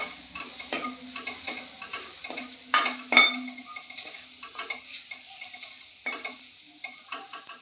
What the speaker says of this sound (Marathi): खोबरं लसूणचं वाटण चांगलं परतल्यानंतर